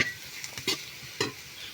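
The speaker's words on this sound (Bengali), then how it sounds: "এটা হালকা একটু নেড়ে চেড়ে আমি পালং শাকগুলো দিয়ে দেব" Pumpkin vadi and potatoes being stirred in a hot oiled pan, a few scraping stirs over a soft steady sizzle, close and fairly quiet.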